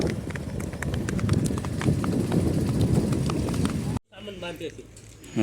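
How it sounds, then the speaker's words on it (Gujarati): A mare's hooves clip-clop in a quick steady rhythm on a hard road surface for several seconds, then stop abruptly and a voice speaks briefly. "હા ભાઈની ઘોડી છે"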